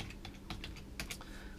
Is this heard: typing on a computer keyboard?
yes